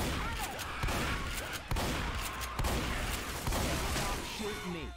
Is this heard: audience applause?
no